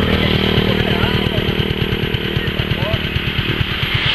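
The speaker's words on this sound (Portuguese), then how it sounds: "passou a moto aqui" A motorcycle engine passes close by on a rural road, a steady loud buzzing drone with a rapid pulsing beat throughout, with voices faintly underneath.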